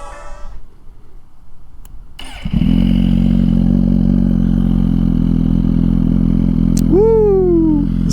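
A 2023 Suzuki GSX-R1000 sport bike, recently run and not fully cold, cranks and fires up after a quiet stretch, then settles into a loud, close, steady idle, with a brief rising-and-falling whine near the end.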